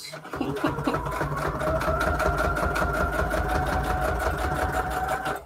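A sewing machine runs steadily on a straight stitch during paper pocket crafting, a loud, close, even rapid rhythm of needle strokes lasting several seconds before stopping.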